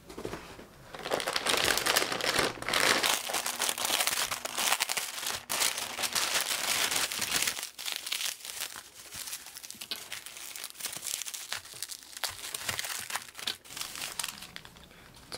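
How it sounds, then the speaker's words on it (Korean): Parcel packaging of nail art supplies torn open and unwrapped, a loud, continuous close crinkling, ripping and crackling of plastic and paper that eases off slightly toward the end, with no voices. "위에 거부터 차례대로 뜯어볼게요."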